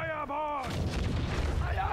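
A heavy ship's cannon shot in the video game Raven's Cry booms after a brief voice, followed by a rumbling roar that lingers and fades.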